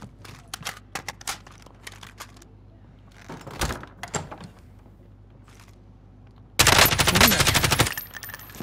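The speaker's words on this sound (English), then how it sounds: "Can hear shots up here." Video game gunfire: scattered sharp shots and short bursts crack at mid distance, then a loud, sustained automatic burst rattles for about a second near the end.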